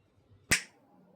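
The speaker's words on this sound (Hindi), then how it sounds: "अब ट्रांजिशन के लिए चुटकी भी बजाने का मन हो रहा है मेरा" A single sharp finger snap, close and crisp, rising briefly out of faint room tone and fading fast.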